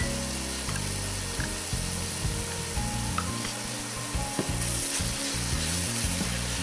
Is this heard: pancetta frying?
yes